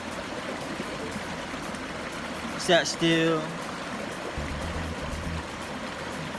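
Steady rushing of a flowing stream outdoors in nature fills the whole stretch, with a brief splash and a few spoken words partway through.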